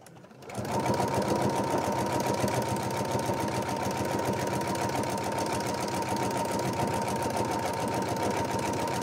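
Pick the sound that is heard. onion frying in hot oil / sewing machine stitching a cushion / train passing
sewing machine stitching a cushion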